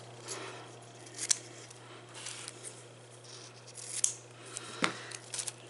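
Scissors snipping ribbon ends at an angle for a Halloween gift package, a few sharp, isolated cuts spaced seconds apart, close and quiet over a faint steady hum.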